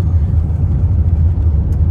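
Car interior while driving home in Kuwait, a loud, steady low engine and road rumble filling the cabin with no other sounds.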